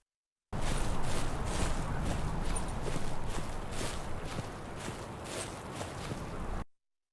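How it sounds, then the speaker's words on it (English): Soft game-character footsteps in Death Stranding, a courier hauling a huge backpack, tread in a steady walking rhythm of about two or three steps a second. Each step carries faint metallic clinks from the load, close and continuous. "I also added some very slight metallic sounds to add to my softer footsteps"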